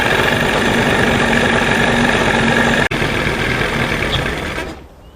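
A 1989 Johnson 40 HP outboard engine idles with a steady, loud mechanical drone and faint knocking, briefly dipping near the three-second mark before trailing off at the end.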